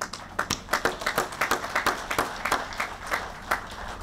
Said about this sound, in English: he needs a round of applause